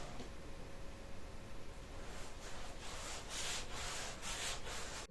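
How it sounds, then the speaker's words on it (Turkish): A sanding sponge rubs steadily back and forth across primer on a canvas, a soft rhythmic scratching that grows a little stronger toward the end. "Bu sünger, sünger şeklinde bir zımpara kağıdı."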